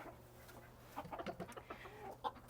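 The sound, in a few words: silkie chickens clucking in a coop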